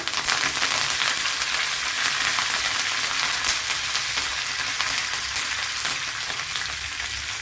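Green chillies and curry leaves hit hot oil in a curry pan for a pumpkin, okra and drumstick curry, giving a loud, continuous close sizzle and crackle that holds steady throughout with no voices.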